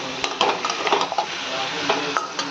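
A spoon stirs cooked meat together with fried potatoes in a pan. Soft scraping and clinking strokes fall in an uneven rhythm over a gentle sizzle, near and fairly quiet, with no voices.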